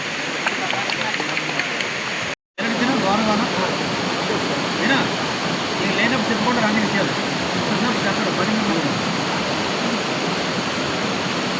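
A steady roar of falling water from a waterfall in a forest setting, filling the background evenly with a short dropout near the start, while people talk over it.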